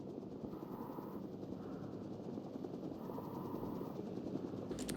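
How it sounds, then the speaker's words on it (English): A helicopter patrols slowly overhead in a war video game, its steady rotor drone continuous and fairly loud throughout, with a brief sharper burst near the end. "There's that helicopter patrolling."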